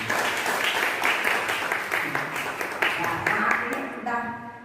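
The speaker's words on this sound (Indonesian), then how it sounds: "semua tepuk tangan untuk ini." Workshop participants at a session on Balinese Arja dance drama clap together in a lively burst of applause that fades near the end as a voice starts speaking.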